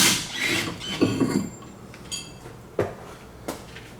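A ratchet wrench works loose the suspension bolts on a BMW E36. Short bursts of close, metallic clicking come in several separate pulls with brief pauses between them.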